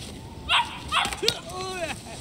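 A dog in the video game Ryu ga Gotoku Ishin Kiwami gives a few close, sharp barks and yips in quick succession, mixed with game dialogue and a player talking.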